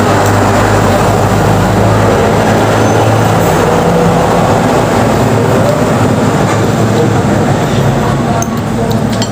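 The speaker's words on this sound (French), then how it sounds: "Il y a beaucoup de camions qui passent." Loud, steady roar of heavy trucks rumbling past nearby on a road leaving Antananarivo, Madagascar, a continuous low drone with no pauses.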